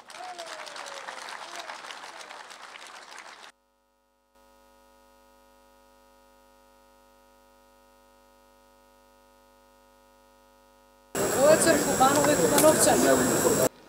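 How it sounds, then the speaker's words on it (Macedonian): A political rally crowd in Kumanovo murmurs at a moderate level before a stretch of low electrical hum, then erupts into loud, dense applause and cheering near the end. "со еден аплауз да ја поканиме"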